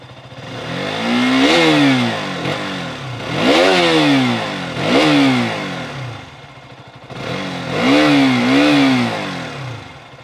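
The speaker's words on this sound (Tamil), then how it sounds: "இன்ஜின் நோட் வந்து ப்ரீமியமாக தான் இருக்குது. ரவ் பண்ணுவோம்." A Karizma XMR 210 or KTM RC 200 motorcycle engine revs repeatedly, rising sharply and falling back in four or five loud bursts, close by with no talking.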